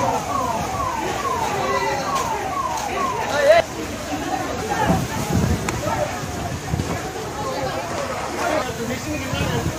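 A wailing fire engine siren rises and falls repeatedly over busy street noise and crowd chatter at a fire, fading after a few seconds while the commotion continues.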